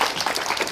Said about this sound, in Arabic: اعطونا تصفيق